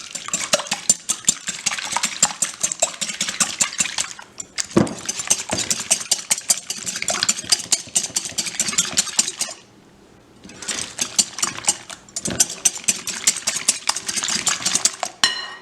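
Two eggs being beaten for a chocolate cherry cake, a steady rapid whirring and clattering against the bowl with brief pauses, loud and close with no talking.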